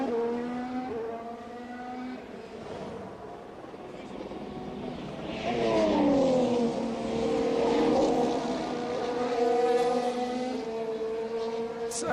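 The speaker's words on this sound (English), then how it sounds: "So the light goes green at the end of the pit lane, and we're on board with Alex Albon." A Red Bull Formula 1 car on board during practice at the 2019 Brazilian Grand Prix, its engine whine rising and falling through gear changes over several seconds, heard under commentary.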